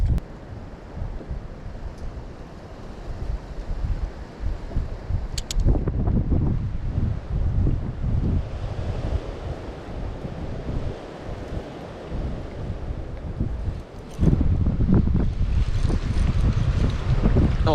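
Strong wind buffets a fishing boat out on open water during bass fishing, producing steady roaring gusts with low rumble and splashing, loud and continuous, with no voices.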